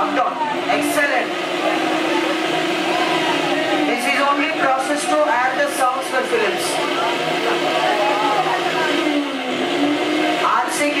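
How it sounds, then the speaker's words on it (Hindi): A mixer grinder whirs loudly and continuously, its pitch rising and falling like a racing bike engine, with voices talking over it. "किसी फिल्म में बाइक रेसिंग का आवाज सुनाई दिए तो बस समझ लीजिए वो चटनी बनाने का मिक्सी बोल गया"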